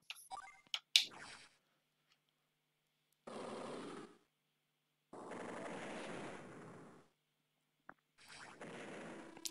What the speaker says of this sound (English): Missiles can fire on air units from a distance